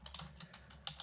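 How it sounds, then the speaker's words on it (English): Quiet, close keystrokes tap out a short, uneven burst on a Mac computer keyboard while a command is entered, with no voices. "We could also double check it by typing in"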